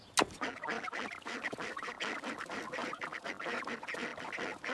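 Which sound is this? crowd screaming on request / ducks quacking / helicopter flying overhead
ducks quacking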